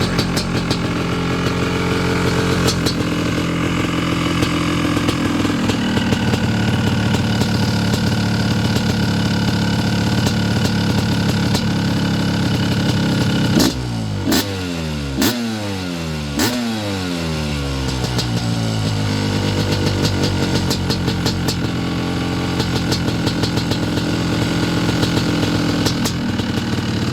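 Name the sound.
CR500 motorcycle engine running and revving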